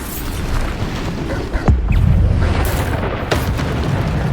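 Bombarda explosion spells burst in Hogwarts Legacy, a loud, close rumbling boom that swells midway and keeps roaring over dense game noise without pause.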